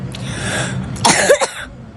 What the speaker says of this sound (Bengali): বাবু আরেকবার কাশো